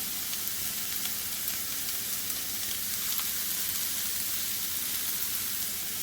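Cauliflower fried rice sizzles steadily in a wok, a continuous even crackle and hiss with faint stirring textures underneath, no voices.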